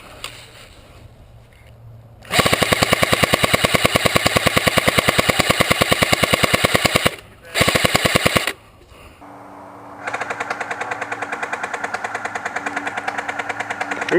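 Rapid automatic gunfire during a team game at a river crossing: a long, loud, close burst of rattling shots, a brief pause, a short second burst, then steadier, quieter continuous firing.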